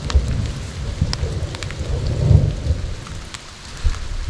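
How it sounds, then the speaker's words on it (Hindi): Thunder rumbles low and steady under heavy rain drumming on a surface while riders shelter inside a pipe during a mountain ride at Chanshal, with no one talking. "ये तो बादलों के गरजने की आवाज़ अगर आ रही हो इसमें"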